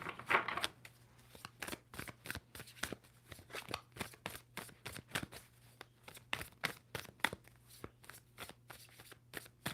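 A tarot deck is shuffled over and over, each crisp riffle snapping out in a quick, regular rhythm, close and quiet with no voices.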